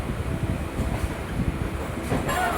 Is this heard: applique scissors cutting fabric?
no